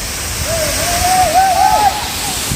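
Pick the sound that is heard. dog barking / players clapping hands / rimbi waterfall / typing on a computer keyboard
rimbi waterfall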